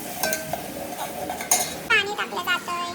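Spices and ginger-garlic paste are stirred in hot oil in a pan, with a few metal clinks and scrapes of a spoon against the pan over a faint background, close and brief, with no speech.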